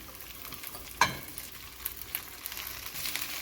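Chopped okra tipped into a hot mustard-cumin tempering with ginger, garlic and chilli, giving a low, steady frying hiss with one sharp clatter early on and light crackles after, close by and without talk.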